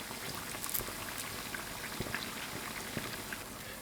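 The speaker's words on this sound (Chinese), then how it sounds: "全程中火慢炸" Yogurt dough twists deep-frying in oil over medium heat, a quiet, continuous bubbling crackle with scattered small pops.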